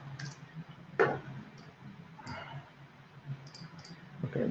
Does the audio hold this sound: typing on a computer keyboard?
yes